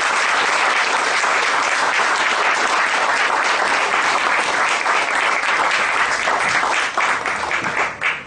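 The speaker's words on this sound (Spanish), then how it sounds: "un fuerte aplauso para él" Loud, sustained applause from an audience at a book presentation, dense steady clapping for about seven seconds before thinning and fading out at the end.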